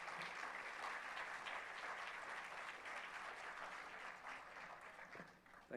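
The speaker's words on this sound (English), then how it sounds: "So please keep on applauding people, right?" An audience applauds at a college induction and orientation programme in Delhi, a steady crowd of many clapping hands continuing for several seconds before tapering off at the end.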